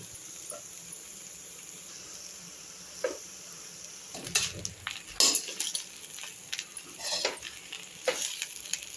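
Capsicum rice is mixed in a hot pan over a quiet background sizzle, with irregular spoon scrapes and clinks on the pan that grow busier and louder partway through, and no speech.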